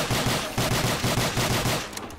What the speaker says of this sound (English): Being shot at by some kind of maniac!